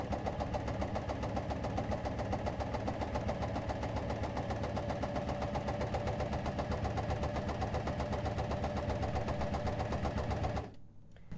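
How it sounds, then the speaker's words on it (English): A Janome sewing machine runs steadily while stitching bias tape, a fast even mechanical whir and rapid needle clatter holding at constant level close by for about ten seconds, then stopping abruptly near the end. "we're just going to continue to sew this all the way around"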